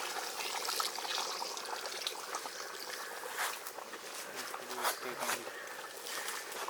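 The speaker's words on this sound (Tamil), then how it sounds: "தேங்காய் பால் ஊற்றிக்கலாம்." Coconut milk pours into a simmering village-style country chicken curry, a soft continuous trickle and splash, with faint bubbling in the background.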